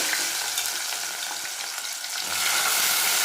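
Dried chili, garlic, curry leaves, coriander and onions fry in hot oil for a fish tamarind curry, a steady close crackling sizzle that holds throughout and swells louder near the end.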